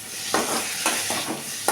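Onion and tomato sauté with salt in a pan while bitter gourd poriyal is prepared, giving a continuous close sizzle marked by about four sharp stirring scrapes.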